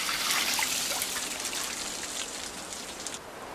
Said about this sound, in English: ice farmers repeatedly douse specially designed wood racks with water